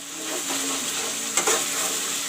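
Masala fries in a pan for fish curry, giving a close, constant sizzle with a couple of brief stirring scrapes and clinks.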